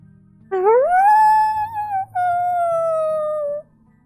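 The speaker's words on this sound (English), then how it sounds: "Howling from outer space." A long eerie howl sounds in the video game Loop Hero, one rising wail that holds steady, breaks briefly, then carries on and fades, loud and alone over a soft low musical drone.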